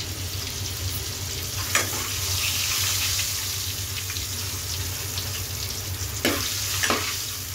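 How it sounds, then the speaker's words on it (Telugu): Eggs frying in hot oil for a curry give a steady, dense sizzle throughout, with a couple of brief clinks or scrapes from a utensil near the middle and end; no voices. "ఆయిల్ మంచిగా సలసల మరుగుతున్నప్పుడు గుడ్లు వేసుకుంటే మనకి త్వరగా వేగిపోతాయి అన్నమాట"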